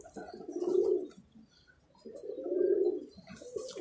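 A pigeon coos twice, low and throaty, close and fairly soft, with a brief pause between the two calls.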